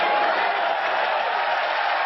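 Applause ringing out at a tennis match between Connors and McEnroe, a dense, steady wash of clapping that stays level and fairly loud throughout.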